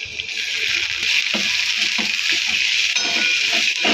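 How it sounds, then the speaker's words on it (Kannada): Finely chopped onions frying in a pan, a steady loud hiss of sizzling oil with soft stirring clicks and scrapes throughout. "ಸ್ವಲ್ಪ ಉಳ್ಳಾಗಡ್ಡಿ ಬ್ರೌನ್ ಕಲರ್ ಬರೋವರೆಗೂ ಫ್ರೈ ಮಾಡ್ಕೊತೀನಿ"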